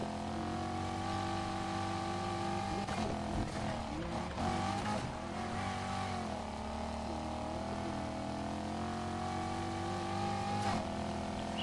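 Race cars in Need for Speed Heat roar continuously through a lap, engine tones rising and falling with gear shifts and a few bumps, loud and steady throughout with no talk.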